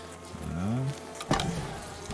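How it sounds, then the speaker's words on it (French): Honey bees buzzing in an open Kenyan top-bar hive, a close droning hum with one bee's pitch rising past, followed by a knock and a brief word spoken over the buzz. "On fait attention de ne pas écraser les abeilles."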